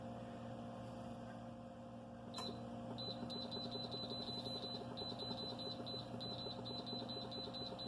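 Power pressure cooker timer being set, a run of short, evenly spaced electronic beeps repeating steadily over a constant low hum from the appliance, fairly close.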